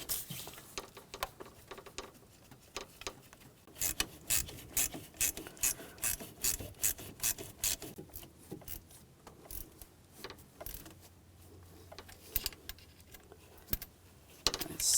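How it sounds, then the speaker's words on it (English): Hand ratchet clicking in short repeated bursts while thermostat housing bolts are snugged down on a 2010-2017 Chevrolet Equinox 3.6L, close and moderately loud, with scraping and clinking of tools between strokes. "just push that in place and tighten down the bolts."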